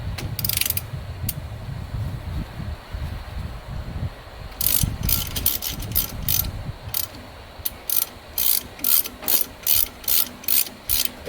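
A hand ratchet works loose the front driver-side brake caliper on a 1999 Ford Expedition, clicking in quick rapid bursts and then in steady evenly spaced strokes, loud and close, with no voices.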